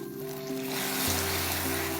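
Water poured onto melted sugar caramel in a hot saucepan, giving a steady, close sizzle with a rising hiss that holds throughout.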